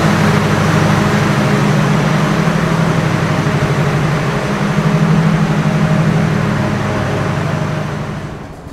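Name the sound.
Chitra Express power car generator running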